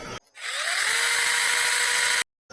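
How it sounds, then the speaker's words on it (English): A Sainlogic 21-volt brushless 850-watt mini electric chainsaw with a 6-inch cut spins up with a rising whine and then runs at a steady high-pitched buzz for about two seconds before stopping abruptly. "So we have the Sainlogic mini electric chainsaw. It actually has a brushless motor, 850 watt, and it's 21 volts."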